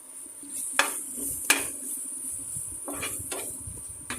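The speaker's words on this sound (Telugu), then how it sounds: "బాగా వేగనివ్వాలి" Ginger garlic paste fries in a pan with a soft, steady sizzle, broken by a few sharp clinks of a spoon stirring against the metal.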